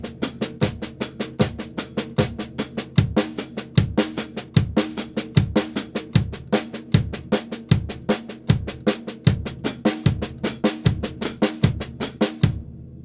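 A snare drum plays a steady train-beat pattern of 16th notes, with accents moving through the one, the e and the and, each repeated four times. The strokes are crisp, evenly spaced and close, with no talking.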